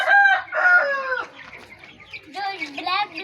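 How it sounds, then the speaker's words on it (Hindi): Chickens and chicks on a desi farm, close clucking and crowing-like calls in short bursts with brief quieter gaps between them. "और देखें हमारे प्यारे प्यारे क्यूट क्यूट चिक्स"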